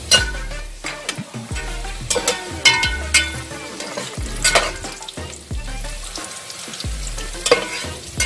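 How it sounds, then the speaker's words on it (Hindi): Whole spices frying in a pan for kabsa, a close, crackling sizzle with repeated scraping stirs and sharp pops rising and falling in bursts, no voices. "ये होल स्पाइसेस जो हैं ये मैंने डालूंगी"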